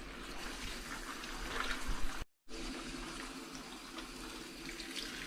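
Running tap water splashing steadily over curly kale leaves during a thorough wash, continuous and close with a brief cut to silence partway through.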